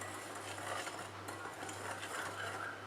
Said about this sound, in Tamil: இப்போது இது ரெண்டுத்தையும் கலந்து விட்டுக்கிறேன்.